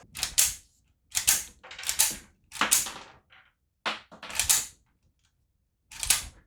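A WW2 Japanese Type 14 Nambu pistol is loaded and dry cycled by hand, producing a series of about seven separate close metallic clacks and slides with short silent gaps between them.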